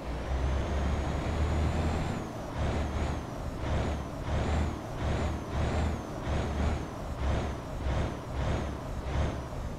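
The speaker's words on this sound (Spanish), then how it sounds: "Vamos a calentar el motor, vamos a calentar el motor." A truck engine idles and warms up in Euro Truck Simulator 2, with a low pulsing diesel rumble, a sharp air-brake hiss near the start, and a repeating rhythmic whine riding over the steady engine.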